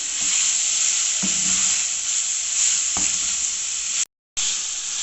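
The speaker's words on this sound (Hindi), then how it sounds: "सारे मसालों को अच्छे से मिक्स करेंगे और अच्छे से भूनेंगे" Beef keema and spices fry in a pan with a loud, steady sizzle, broken by a few stirring scrapes and one brief dropout near the end, with no talk.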